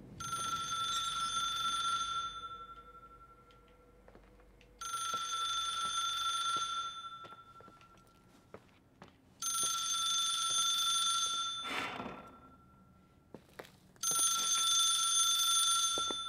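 An old-style telephone rings in the mystery game The Case of Rachel Foster, four long bright electric ring bursts separated by pauses of quiet room tone.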